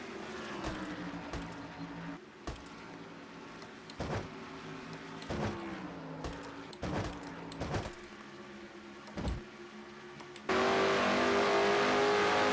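Stock car engines roar steadily in a video game race, the NNSCRA Busch 500, with sharp clicks recurring every second or so and a louder, brighter engine burst near the end; no one speaks.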